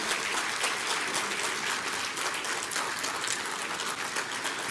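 Audience at a celebration event in Aurangabad giving sustained applause, a dense, even wash of many hands clapping at steady loudness throughout.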